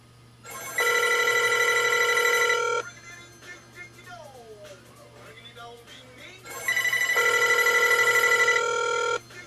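An Amazon Echo Connect being dialed produces a loud, steady electronic telephone ring in two long bursts separated by a quieter gap, with faint talk and small noises in between.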